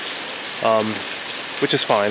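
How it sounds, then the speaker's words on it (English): Heavy rain pounds a Six Moon Designs Skyscape Trekker tent during a storm, a steady close-up hiss and patter that keeps going while a person talks. "it's really, really coming down pretty hard"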